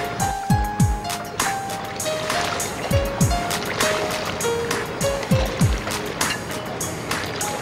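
A cartoon merchant boat glides calmly across open water, with soft lapping and splashing sounds under gentle background music and a few whooshing swells.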